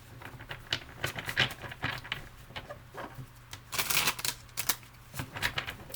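Tarot cards being shuffled by hand, quick papery riffles and soft slaps in irregular bursts, close and fairly quiet, with no talking over them.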